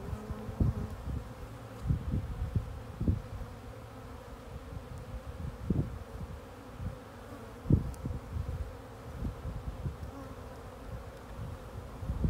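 Honeybees in an opened hive during an early-spring inspection, a steady dense buzzing swarm close to the microphone with occasional louder bees passing near, no talking.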